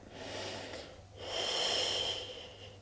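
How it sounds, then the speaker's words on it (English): A long breathy exhalation during a Pilates exercise, a faint airy rush in two swells with the second one stronger, close and quiet, with no talk. "Breathing out."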